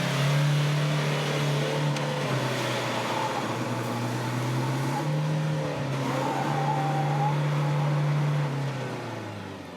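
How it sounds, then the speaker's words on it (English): A turbocharged 4x4 engine revs hard during a hill climb at an off-road club challenge, giving a loud, sustained drone whose pitch swings up and down with the throttle, close and continuous, with no talking. "Now for that climb. After spooling up the turbo,"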